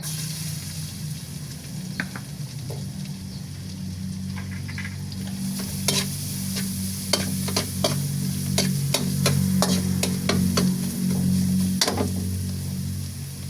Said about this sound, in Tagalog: Ang una ko po munang gagawin, magigisa ako ng bawang.